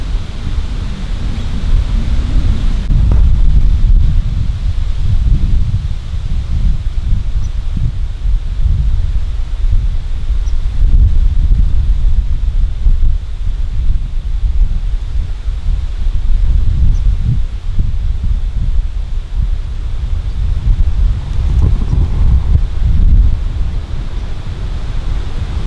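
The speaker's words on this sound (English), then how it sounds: "it's pretty windy though" Strong wind gusts roar across an open cornfield, a steady low rumble and buffeting on the microphone that rises and falls for the full duration, with no voices.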